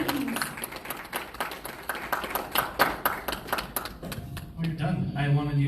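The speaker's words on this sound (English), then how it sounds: "Let's give Alicia one more big round of applause" Applause from an audience at a BNI business networking meeting breaks out for a presenter named Alicia, a dense run of claps at steady loudness, with voices rising over it near the end.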